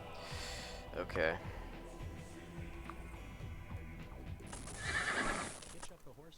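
Horses neigh and whinny in the video game Might and Magic VI, a loud call near the start and another strong burst near the end, with clip-clop hooves and game sounds throughout and someone talking over them.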